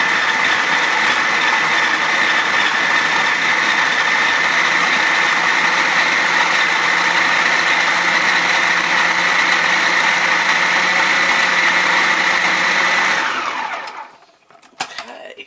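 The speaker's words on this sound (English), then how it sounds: "Okay, got it in the food processor." A food processor runs loud and steady while it mixes dough, its motor whirring and rattling without a break before it quickly winds down and stops.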